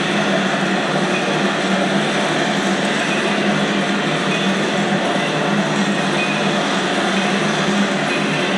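A long freight train carrying UPS trailers passes, giving a steady, broad rushing roar of rolling cars that stays even and continuous throughout, heard at moderate distance with no talking.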